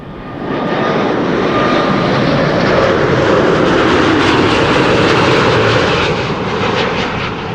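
A landing airliner at Amsterdam Schiphol Airport on a windy day gives a loud, steady engine roar that swells in and holds for several seconds before easing slightly, heard alone without voices.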